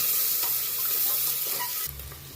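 Garlic, shallots and onions tempering in hot oil, a close, continuous sizzle with soft stirring that drops slightly in level toward the end.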